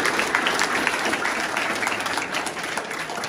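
Applause from a school audience, a dense, steady clapping from a crowd that carries at even volume through the whole short clip.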